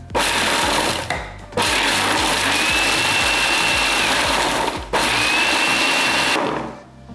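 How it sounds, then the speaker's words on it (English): A food processor pulses a seed and nut cracker mixture in two loud, sustained whirring bursts with a brief gap between, the motor droning steadily before winding down. "We'll pulse the mixture."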